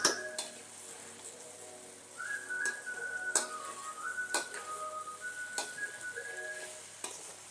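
A spoon stirs and mixes lemon rice in a pan, with several sharp clinks of metal against metal and soft scraping beneath, while a steady whistling tone drifts in the background.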